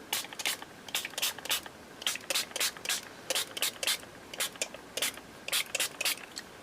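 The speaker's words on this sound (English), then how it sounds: "let's give these a little spritz then" Quick bursts of a spray bottle spritzing gold mica spray, many short hissing pumps in irregular clusters, close by.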